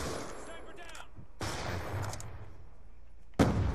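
Sniper rifle shots ring out in a Black Ops 2 Search and Destroy match. A few sharp isolated cracks are spaced apart, the last one loudest and nearest, with quieter game sounds between them.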